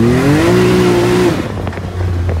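A Can-Am Maverick X3 side-by-side UTV engine revs up with a rising, droning tone, then eases off to a rough idle, close and loud.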